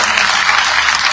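A dense, steady wave of audience applause for the president at his birthday leadership event, loud and continuous throughout.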